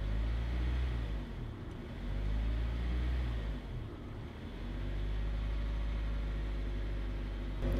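A Nissan S13 engine idles off the throttle with a steady low rumble, dipping briefly twice as the revs settle, heard close up with no one talking.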